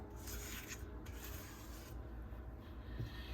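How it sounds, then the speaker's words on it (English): A spatula scrapes pound cake batter out of a mixing bowl in a soft, continuous rubbing sound up close, with no talk. "Get a spatula so we can get it all off, not off, but out of the mixture, out of the bowl."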